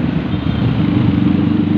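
A motorcycle passes close by on EDSA northbound toward Cubao, a loud continuous engine rumble amid city traffic.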